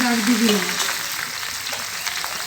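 Jujubes dropped into hot oil for a kul pickle set off a loud, bright sizzle that settles into a steady frying hiss, heard up close with a light clank at the start.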